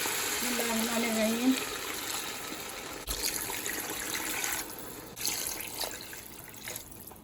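Water pours steadily into a cooking pot with a continuous splashing rush, close by, while a voice speaks briefly near the start.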